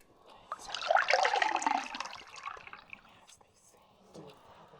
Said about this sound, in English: Simply pour water into the cup.